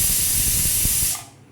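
Steam hissing hard from a pressure cooker with beetroot rice cooking inside, a loud steady spray that cuts off abruptly near the end and drops to quiet before a brief return of noise.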